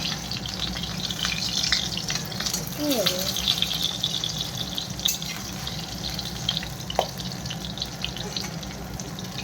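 Fish pieces fry in a pan with a steady crackling sizzle, a soft clatter of utensils, and a brief voice in the background.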